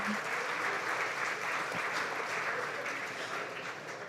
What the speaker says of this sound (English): So give yourselves a round of applause for all that you're doing here tonight